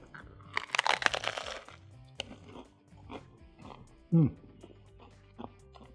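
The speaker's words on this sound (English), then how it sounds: "So it's got a nice crunch to it." Someone bites into a crunchy air-fried fish taco, producing a cluster of sharp crackling crunches followed by softer chewing, with speech also present.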